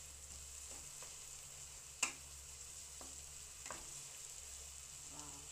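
Ground pork with fresh crushed tomato frying in a pan, a steady soft sizzle under occasional quiet scrapes and one sharp clack of the spoon against the pan as it is stirred, with no talking.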